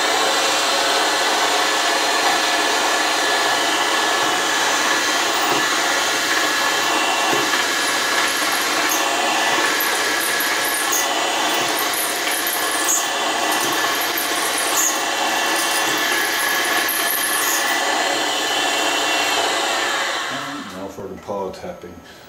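A power drill runs continuously at a steady loud pitch, boring a freehand-aligned hole in a straight edge blank on a machine table, then winds down and stops near the end.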